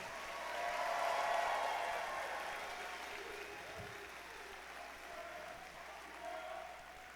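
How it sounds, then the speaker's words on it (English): A large audience at a FIRST Robotics Competition opening ceremony claps in a sustained round, swelling early and then settling into a steady, moderately loud wash of hands with faint crowd murmur. "let's give her one more round of applause"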